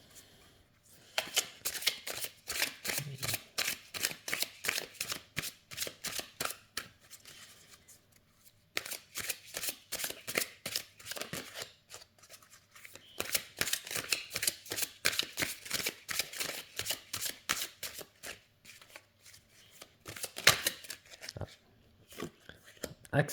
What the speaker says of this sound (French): Alors, une petite carte. Les cartes chantent